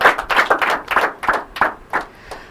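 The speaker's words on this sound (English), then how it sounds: "One more time, a warm round of applause." An audience at an inter-collegiate quiz and debate competition claps in a brisk round of applause. The claps are loud and close, with distinct individual hand strikes that thin out toward the end.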